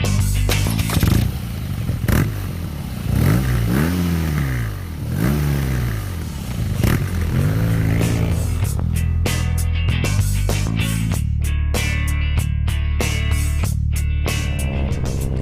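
A BMW R NineT Urban G/S with its flat-twin boxer engine, loud and close, revving up and down in repeated swells before settling into a throbbing, lumpy idle with mechanical clatter.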